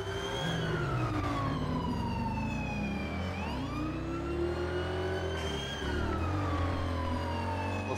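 A police car siren wails in a roleplay video game, its long sweeping tones rising and falling over a steady loud car engine roar throughout.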